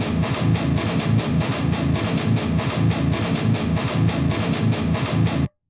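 Heavily distorted metal guitars play a looped riff in a 9/16 polyrhythm over 4/4, a dense chugging pulse of repeated palm-muted hits that cuts off abruptly at the end.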